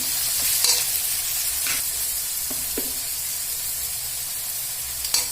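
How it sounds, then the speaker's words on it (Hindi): Browned onions with ginger-garlic paste frying in a pan for jackfruit kofta: even bright sizzle throughout, punctuated by a handful of brief spoon scrapes against the pan, near and without speech. "इनमें हम 1 चम्मच आदि और लहसुन के पेस्ट डाले छी। हम भून लेबे।"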